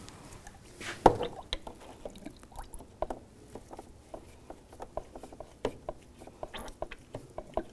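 Coolant drips and trickles from a BMW 325xi radiator bleeder in irregular small splats close by, with one louder splash early on and faint clicks around it.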